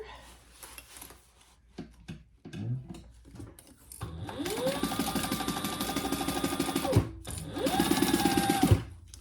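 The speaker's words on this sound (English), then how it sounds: "let's sew that together" A sewing machine runs in two sustained stitching bursts while seaming a slim duffle bag, after a few quiet handling clicks, fairly close and steady with a brief pause between runs.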